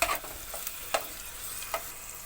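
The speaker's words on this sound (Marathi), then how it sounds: "आता यामध्ये अद्रक लसूणची पेस्ट घालायची. हे मिक्स करून घ्यायचं." Ginger-garlic paste is stirred into onions frying in oil for black masala chicken: a soft, even sizzle runs throughout, punctuated by several sharp spoon scrapes and clicks against the pan.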